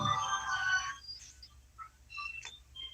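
A phone rings with a bright electronic melody of short chiming notes, moderately loud at first and then thinner, without any voices.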